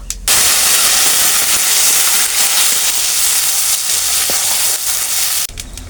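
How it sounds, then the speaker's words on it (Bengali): Blended tomato and onion paste hits hot oil already seasoned with cumin seeds and bay leaf, giving a loud, steady, close sizzle that holds for about five seconds and then cuts off. "এরপরে ব্লেন্ড করে রাখা টমেটো আর পেঁয়াজ বাটা দিয়ে দেব"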